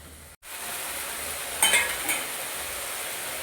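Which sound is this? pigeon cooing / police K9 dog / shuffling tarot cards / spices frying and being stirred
spices frying and being stirred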